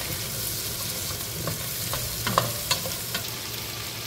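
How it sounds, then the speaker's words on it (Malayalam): Potatoes and carrots with onion sizzle in a pan as they are stirred, a close steady frying hiss broken by a few light scrapes and clicks of the utensil. "ക്യാരറ്റും ഇട്ട് നമുക്ക് നന്നായിട്ടൊന്ന് മിക്സ് ചെയ്യാം."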